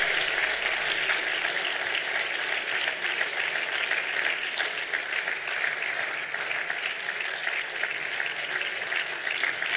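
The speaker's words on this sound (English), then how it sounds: "Make sure you continue to clap for him till he takes the mic here" Sustained audience applause at a Nigerian Immigration Service 60th anniversary celebration, dense continuous clapping from a large crowd, steady and loud throughout.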